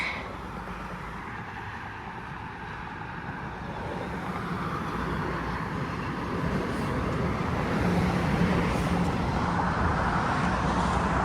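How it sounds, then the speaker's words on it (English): A steady low rumble of a Toronto TTC subway train rolling into Glencairn Station, an open station in the middle of Allen Road, building gradually louder over several seconds amid broadband road and city noise, no voices. "Another northbound train rolling in."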